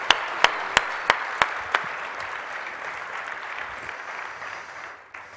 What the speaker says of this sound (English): Ladies and gentlemen, a round of applause for our Q&A.